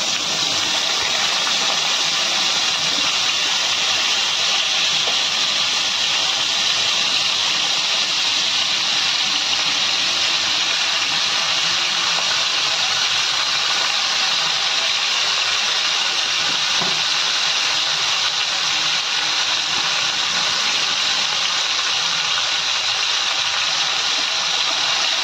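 Pieces of yogurt-and-pepper-marinated chicken for lemon pepper chicken fry over high heat, producing a loud, continuous, even hiss of sizzling that holds steady for the whole stretch without talking.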